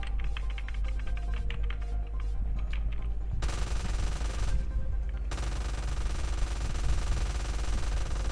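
Rapid automatic gunfire in GTA San Andreas as a player shoots a car, sustained loud bursts with a short pause between them over a constant game background.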